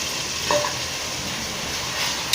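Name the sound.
sautéing green field beans in pan for biryani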